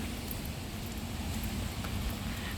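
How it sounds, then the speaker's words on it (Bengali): Heavy rain falls steadily, a dense continuous hiss with no breaks and no voices. "বৃষ্টি হচ্ছে জোরে হচ্ছে"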